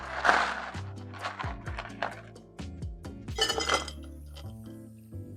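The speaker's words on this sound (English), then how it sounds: "Then we're going to add in some pebble ice." Small pebble ice tumbles into a metal cocktail shaker for a lime cachaça drink, a run of close, bright clinks and rattles in irregular bursts with no talking.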